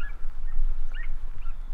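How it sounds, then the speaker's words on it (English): Scattered high chirps and short bird calls ring out over a steady low background rumble, with no voices. "You can hear all the birds twittering away in the background."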